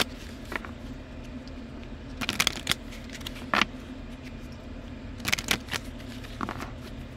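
A deck of playing cards handled and shuffled up close, with soft riffling bursts near 2.5 and 5.5 seconds and scattered light flicks and taps in between, no talking.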